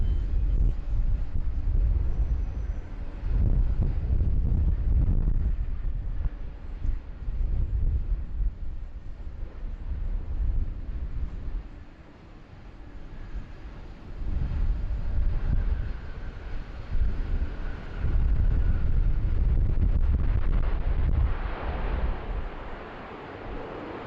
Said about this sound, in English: the beautiful sounds of the Pratt & Whitneys